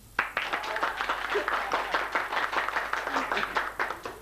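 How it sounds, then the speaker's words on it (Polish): An audience claps steadily through a performance in Wolsztyn, a dense patter of many hands that stays fairly soft and even from start to finish. "Oklaski."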